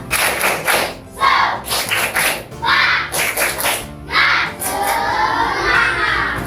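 A children's class claps the tepuk semangat chant together, loud patterned bursts of clapping in rhythmic groups mixed with children's shouted voices.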